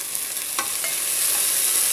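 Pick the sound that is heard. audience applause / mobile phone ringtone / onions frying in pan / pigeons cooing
onions frying in pan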